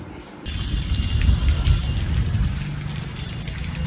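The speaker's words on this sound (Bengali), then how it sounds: "তো বাসা থেকে বের হয়ে দেখি বৃষ্টি," Rain falls outdoors in a steady, dense hiss that swells in after a brief quiet start and holds at a fairly loud level throughout, with no voices.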